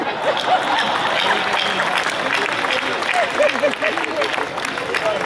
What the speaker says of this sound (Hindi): केवल वही लोग ताली बजाना जिन्हें बात समझ में आए